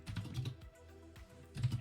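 Keys clatter on a computer keyboard in quick irregular bursts, quiet and close, with brief pauses between runs of strokes during an online Call of Duty 2 tournament broadcast.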